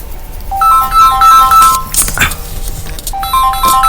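A phone ringtone plays a repeating bright electronic melody of short stepped tones, loud and close, looping twice with a brief pause and a small clink between the phrases.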